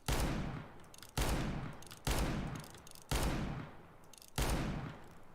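R8 Revolver fired in a video game: five loud, sharp shots roughly a second apart, each with a long, slowly fading tail, with no talking.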